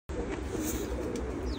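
Pigeons of a special breed coo in a loft, a steady low burbling chorus from many birds close by.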